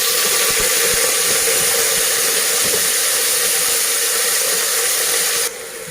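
Onions and spinach sizzling in a hot pan, a steady loud hiss of frying that carries on without a break and drops slightly in level near the end.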